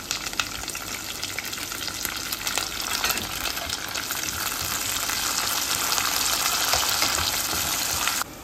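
Chopped garlic, chilli and curry leaves fry in hot oil with a steady, loud, close sizzle and crackle that holds for the whole stretch, with no talking.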